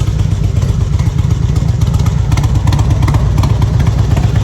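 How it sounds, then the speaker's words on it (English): A motorcycle engine runs loud and close at Laconia Motorcycle Week, a steady, throbbing low rumble with rapid pulsing and mechanical clatter throughout, no voices over it. "we're gonna go here and shut this bike off too"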